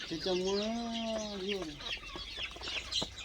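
A large multicolored country rooster and hens make a long, drawn-out vocal call followed by a run of short, quick clucks, close by against a busy market background.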